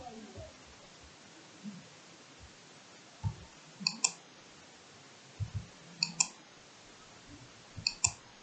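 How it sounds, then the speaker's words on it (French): Sharp clicks from pressing keys such as Enter on a computer during a Windows password reset, a few separate taps and short double taps spread over several seconds against a quiet background, with faint low sounds between them. "Voilà, on clique sur entrée."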